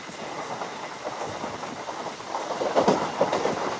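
The Visakhapatnam to Parvatipuram MEMU Express, train 08501, runs along the rails with a steady, close rumble and rhythmic wheel clatter that swells slightly toward the end.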